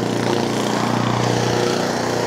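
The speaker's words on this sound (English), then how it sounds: "Lawnmowers." A lawn mower runs outside with a steady droning engine, constant and fairly loud, with no voices heard over it.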